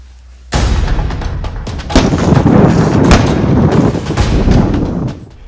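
Missile bombardment in news footage of the Israel–Gaza war: dense, continuous booming blasts and heavy thuds roll in after a brief quiet, loud and overlapping for about five seconds before easing off.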